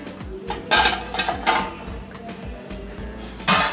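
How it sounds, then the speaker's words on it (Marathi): Metal clatter as a lid is set on a pan and a gas stove is switched off while cooking patvadi bhaji; several sharp, close clanks and knocks come in separate bursts, with a louder final clank near the end. "आता यावर थोडं झाकण ठेवून गॅस बंद करायचं"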